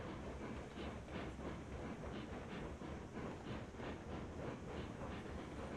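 Steam locomotive from the game Railroads Online, a faint, steady rail rumble with a soft, rhythmic exhaust pulse and hiss running continuously in the distance.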